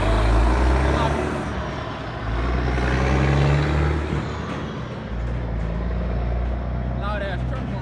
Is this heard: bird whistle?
no